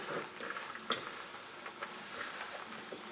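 A pot of patidou squash bubbling and spitting as it boils over on the stove, a soft continuous sizzle with one sharp crackle, close and fairly quiet.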